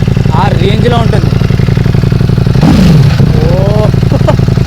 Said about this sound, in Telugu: మన ఇన్లైన్ 4 సౌండ్స్ కంటే ఐ లైక్ దిస్ ఎగ్జాస్ట్.